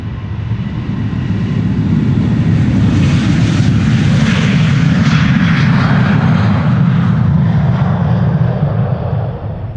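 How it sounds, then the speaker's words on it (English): A KLM airliner takes off from Amsterdam Schiphol Airport, its jet engines giving a loud, close, sustained roar that builds and holds across the whole stretch with a deep rumbling low end. "KLM flight 1355 is taking off here"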